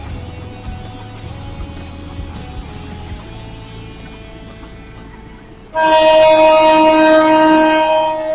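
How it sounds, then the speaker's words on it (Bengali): A train at Mohimaganj station rumbles past, then a loud, sustained horn blast cuts in and holds to the end. "এই হচ্ছে ট্রেন।"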